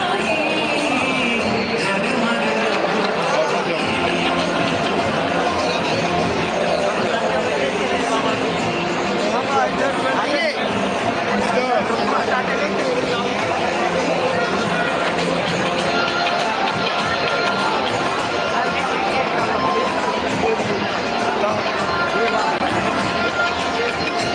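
A large festival crowd at the Ayodhya Ram Mandir keeps up a dense, steady murmur of chatter and movement, loud and continuous throughout.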